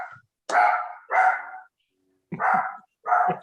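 Dogs barking in a house, four loud separate bursts with short gaps, the last two sharper, close by and with no talk over them.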